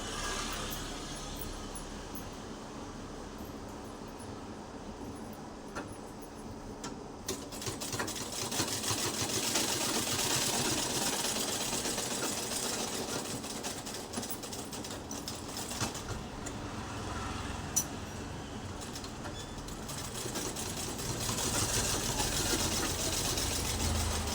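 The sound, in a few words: sewing machine stitching a folded fabric hem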